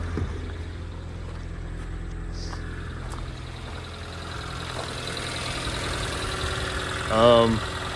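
A 1988 hatchback's engine idles steadily at low rumble, with a brief higher-pitched mechanical whine near the end; the car's catalytic converter has been stolen.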